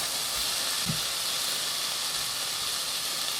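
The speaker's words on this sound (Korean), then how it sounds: "가지를 넣고 볶습니다." Eggplant stir-fried in a pan with oil, sautéed green onion and onion, giving a steady, even hiss of frying throughout with no voices.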